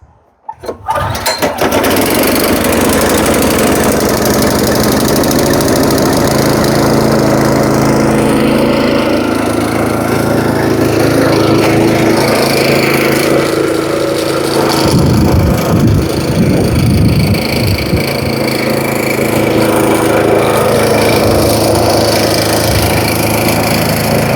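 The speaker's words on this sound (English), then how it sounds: "we use these blades on the scarifier, which spin around and they will thin it out" A Cobra S40C petrol scarifier runs steadily as its spinning blades thin out a tired autumn lawn, a loud continuous engine drone with rattling, scratching bursts as the blades bite into thatch.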